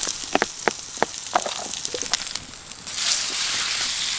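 Mushrooms sizzle in a generous amount of butter in a pan over high heat at a rainy backcountry campsite, with soft crackles and pops building into a steady, loud hiss.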